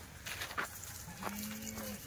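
A buffalo gives a low, drawn-out moo that rises near the end, preceded by faint rustling and soft background noise, fairly quiet overall.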